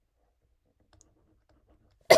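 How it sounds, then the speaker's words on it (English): After near silence, a single abrupt cough bursts out close by at the very end. "Apologies for the coughing."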